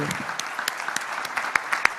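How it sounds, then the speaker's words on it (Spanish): Audience applause at an Argentine health congress, a short burst of dense clapping with sharp individual claps standing out near the end. "pido un aplauso para los tres colegas y para Cami, por favor"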